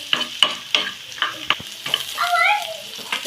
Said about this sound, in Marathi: 1 मिनिट परतवूया।